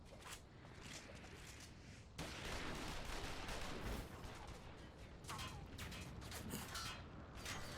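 Gunfire in a Final Fantasy XIV cutscene: repeated sharp bursts of shots crack over a dense battle din, some clustered close together, with voices mixed in at times.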